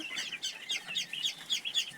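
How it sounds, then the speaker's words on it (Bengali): Young tiger chicken chicks peep in a steady run of high, repeated chirps, several birds close by with no talking. "এখানে হচ্ছে অল্প কিছু টাইগার মুরগির বাচ্চা"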